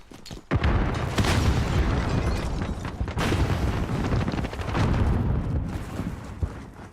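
A grenade in the video game Call of Duty goes off with a heavy, close boom, followed by seconds of rumbling blast noise and debris that slowly settles.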